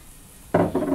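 Pancetta hitting a hot pan and beginning to crisp, a sudden close burst of frying noise after a quiet moment, staying loud with a brief dip midway.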